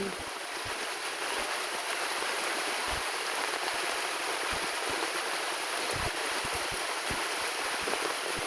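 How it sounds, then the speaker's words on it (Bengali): Heavy rain pours down with water flowing and streaming, a constant dense rushing hiss broken by scattered low thuds, steady and fairly close, with no voices. "খুব বৃষ্টি হয়েছে"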